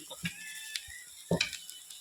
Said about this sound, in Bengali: এখানে আলু ভাজা হচ্ছে আর এখানে লুচি হচ্ছে এই লুচিটা ফুলছে দেখো